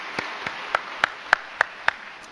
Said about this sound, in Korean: 우리 하나님 앞에 다시 한번 영광의 박수 올려드리겠습니다.